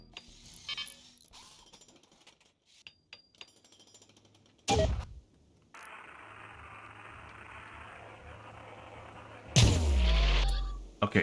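A RimWorld weapon fires at a target: two loud booming shots several seconds apart, the second followed by a rumbling decay, set against quiet background noise with no voices.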